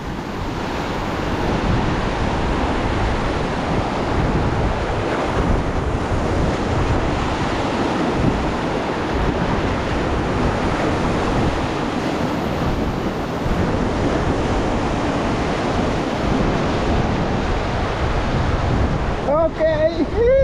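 Heavy ocean surf whipped up by Typhoon Kristine roars continuously, with large waves crashing amid strong wind buffeting the microphone, loud and unbroken throughout.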